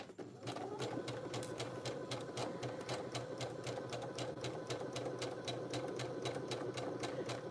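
A sewing machine running a back stitch rattles at a steady, rapid needle rhythm, close and continuous for the whole stretch with a low motor whir underneath.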